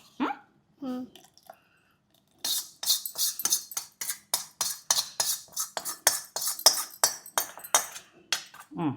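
A spoon stirring a butter mixture in a metal pot at home, a fast run of close, sharp scraping clinks in steady rhythm, preceded by a few words of talk.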